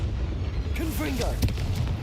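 A Confringo fire spell blast bursts out in Hogwarts Legacy, a booming impact over a low rumbling bed, with a voice speaking briefly alongside it.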